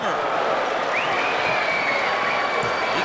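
A high school basketball crowd at a 1998 Class A semifinal between Belleville and Flint Northwestern applauds and cheers steadily for a reverse layup by Desmond Farmer, a broad sustained roar that stays even from start to finish.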